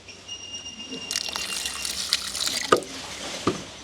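Water pours and splashes into a cooking pot for fish, starting quietly and then gushing, with a few sharp drips and clinks.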